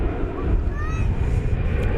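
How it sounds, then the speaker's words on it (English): A Turkish airliner approaching the airport for landing drones steadily with a low engine roar, distant and constant, beneath people talking. "I believe this Turkish flight that's approaching here."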